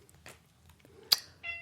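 A single short cat meow comes near the end, close and fairly quiet, after a few soft clicks and rustles in an otherwise still room.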